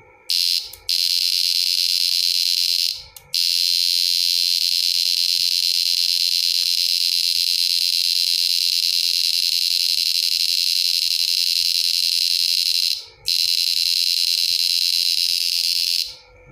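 A steady, harsh electronic buzz from an electronic pulsator device, its frequency not yet adjusted, drones loud and continuous, cutting out briefly three times before resuming, with a hissy, rough edge.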